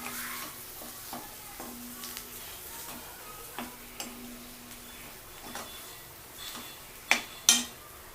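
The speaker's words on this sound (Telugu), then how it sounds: "లాస్ట్గా కొత్తిమీర వేసేసి కొంచెం కలియబెట్టండి." Coriander is stirred into aloo paratha potato filling frying in a pan: a quiet, soft sizzle under repeated spoon scrapes and ticks, ending with two sharper metallic clinks.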